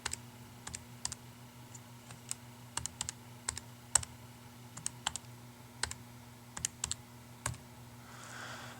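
Keys are typed on a computer keyboard while entering an algebra problem, with sharp, close clicks in quick irregular clusters over a faint steady electrical hum.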